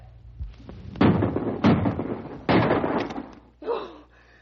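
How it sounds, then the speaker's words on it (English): Rifle shots fired at a charging grizzly bear in an old-time radio drama: three loud, sharp blasts about a second apart, each with a rough, lingering decay, followed by a shorter burst of noise near the end. "Empty your rifle right into it."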